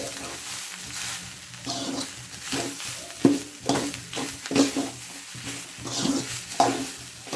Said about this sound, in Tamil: இதையும் போட்டு நல்லா கிண்டிடலாம்